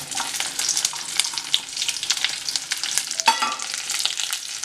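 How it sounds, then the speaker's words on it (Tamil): Onion, carrot and capsicum fry with garlic in a pan, giving a close, steady sizzle broken by stirring scrapes and clicks throughout. "garlic லைட்டாக ஃப்ரை ஆனோடனே நம்ம ஆனியன் போடுவோம், கேரட் போடுவோம், கூடயே கேப்சிகம் போடுவோம்."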